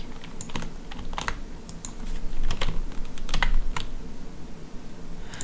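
Rapid bursts of computer keyboard typing, close and clear, with irregular clusters of keystrokes and short pauses between them.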